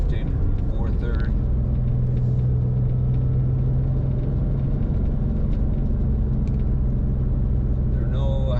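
A 1999 Porsche 911 drives along while shifting up through the gears, its engine a steady, close rumble with road noise underneath and someone talking throughout.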